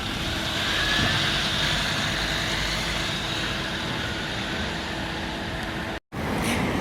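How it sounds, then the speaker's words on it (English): A Scania Enviro 400 bus pulls away from a stop in Gloucester. Its engine gives a steady, close, broadband rumble that cuts out for a moment near the end. "Another departure on the far side. This one is a Scania, of course it is. A Scania Enviro 400 here"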